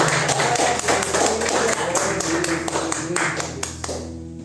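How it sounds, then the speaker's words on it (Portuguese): Church congregation clapping for Jesus after a sermon, a dense steady patter of many hands with taps and thuds, mixed with a low hum and faint voices, tapering off at the end. "Pode aplaudir a Jesus."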